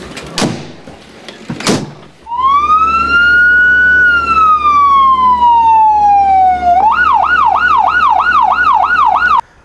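An ambulance siren starts after a couple of sharp knocks: a loud, close wail slowly rising and falling, then switching to a fast yelp pattern that keeps going until it cuts off abruptly.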